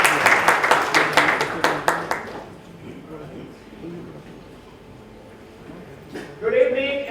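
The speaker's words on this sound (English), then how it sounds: "Can we have a huge round of applause, please," An audience at an HTC One A9 launch event in Delhi breaks into dense, rapid applause for about two seconds, then the clapping fades and a person starts talking.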